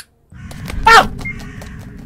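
A crow in Summer of 58 gives a loud harsh caw and flutters off, a bright burst near the middle over a steady low ambient rumble, with faint clicks around it.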